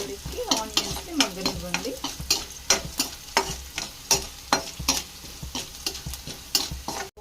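Seeds fry in hot oil for drumstick leaf fry while a utensil scrapes and stirs in a regular rhythm of crisp strokes over a constant sizzle, close and clear with no talking.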